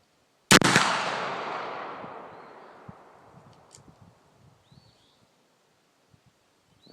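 A single sharp muzzleloader rifle shot goes off loud and close after a short silence, followed by a long decaying echo that rolls away over several seconds, with a few faint ticks afterward.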